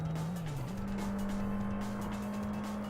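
Racing car engine in the Import Tuner Challenge video game, a steady whining drone that dips briefly then climbs as the car downshifts, with faint tire noise underneath.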